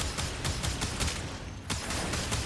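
Rapid bursts of AKMagnus Prime pistol fire in the game Warframe, a steady rhythm of sharp, loud shots with a brief pause near the middle before firing resumes.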